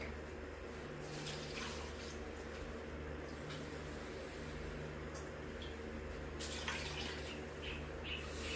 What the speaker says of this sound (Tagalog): Tapos lagyan natin ng tubig